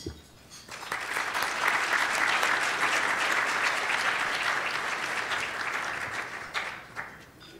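Sustained applause from a symposium audience welcoming Alan Roberts at a business globalization event, rising quickly and filling the room steadily for several seconds before tapering off, with no talk over it.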